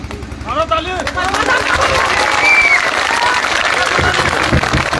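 Scattered clapping from a small part of an audience of about 150 people at a public speech, with crowd noise and voices mixed in throughout.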